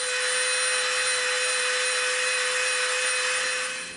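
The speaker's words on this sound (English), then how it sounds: "now what we're gonna do is we're gonna take our Dremel out. We're just gonna lightly round this edge" Dremel rotary tool lightly rounding the edge of a piece of EVA foam, a steady high-pitched whine with sanding hiss held continuously for about four seconds, close and fairly loud, no talking.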